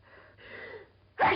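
A single person's sneeze bursts out sharply near the end, preceded by a brief quiet intake of breath, close and fairly loud in an otherwise hushed room.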